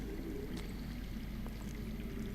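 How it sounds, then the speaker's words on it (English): Underground water flowing somewhere nearby in a Game of Thrones Telltale video game scene, a steady low rushing wash that continues without a break, heard at a distance. "That's water. I hear water. from underground."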